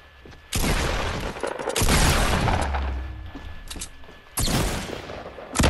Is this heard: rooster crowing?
no